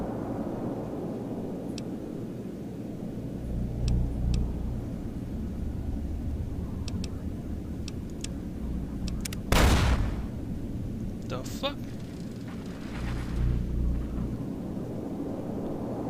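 Random explosions in Fallout: New Vegas, a rumbling low background broken by one sharp loud blast near the middle and a few fainter thumps, with a short spoken exclamation.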